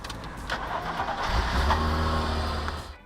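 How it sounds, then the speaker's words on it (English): An MG ZS 180 with the KV6 engine starts: a brief starter crank, then the engine catches at about one and a half seconds and settles into a close, steady idle. "the car should start"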